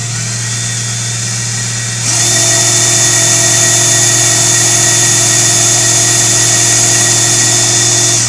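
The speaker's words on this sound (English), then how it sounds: "let's drill this bad boy." Power drill running steadily with a blunt bit into work clamped in a vise, a constant high whine that steps up louder and brighter after a couple of seconds and holds until the end, close and alone.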